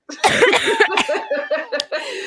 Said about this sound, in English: I brought myself back right in time to cough.